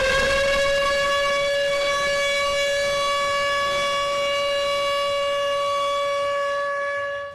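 A loud air raid siren in Ukraine holding one steady wailing tone throughout, then cutting off abruptly at the end.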